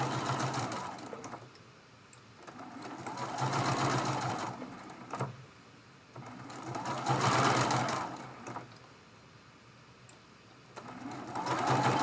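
Sewing machine stitching down the blades of a Dresden plate quilt block made from charm packs, running in steady bursts of rapid mechanical whirring that swell and pause several times.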